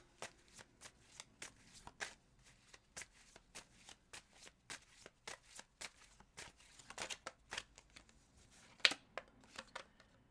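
A deck of tarot cards is shuffled up close, giving a run of quick, crisp riffles and flicks that repeat at an even pace, quiet and alone.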